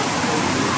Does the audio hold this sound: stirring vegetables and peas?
no